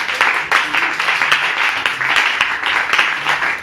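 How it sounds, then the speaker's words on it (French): Church congregation clapping loudly and rhythmically together, a dense, close burst of applause with cheering that carries steadily through the whole moment. "acclame plus fort pour la gloire du Seigneur"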